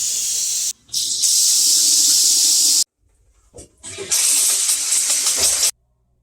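Pressurised water jets from two nozzles switched by a solenoid valve in a washing machine cleaning system, giving loud hissing spray bursts that start and stop abruptly with short silent gaps.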